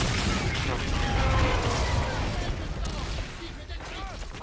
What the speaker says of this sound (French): On en profite pour leur mettre 2-3 petites balles